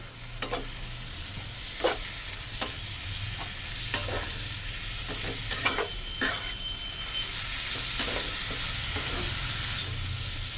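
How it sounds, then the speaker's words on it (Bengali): Crab pickle masala with turmeric, amchur powder and chopped coriander is sautéed over medium heat, giving a steady close sizzle with periodic spoon scrapes and knocks against the pan, no voices. "দিয়ে মিডিয়াম আঁচে রেখে খুব ভালো করে মশলাটাকে কষে নেব।"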